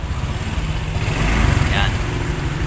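A Honda Click scooter idles just after starting, a steady low engine rumble running through the whole stretch with a brief swell midway, close by and alone.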